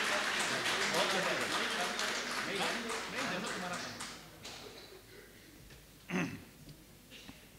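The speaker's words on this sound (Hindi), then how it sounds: "एक बार जोरदार तालियां बजा करके प्रियेश भाई को बुलाएं" Applause and clapping from the audience at a Hindi comic poetry gathering in Kolkata, loud and dense for about four seconds before thinning out, followed by a brief sharp knock.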